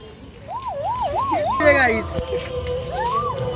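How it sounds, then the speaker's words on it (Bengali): An ambulance siren out on the street during Kali Puja pandal hopping: a loud rising-and-falling wail cycles for about a second, breaks off amid crowd and traffic noise, then one more brief sweep rises near the end. "কত সুন্দর স্পটলাইট করছে অ্যাম্বুলেন্স"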